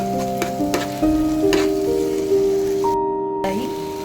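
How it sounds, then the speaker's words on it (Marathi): Onion and tomato fry in oil for a Malvani prawn masala, a soft continuous sizzle under steady tonal sounds, with a couple of faint utensil taps. "आता आपला कांदा आणि टोमॅटो हा व्यवस्थित असा फ्राय झालेला आहे तेलामध्ये."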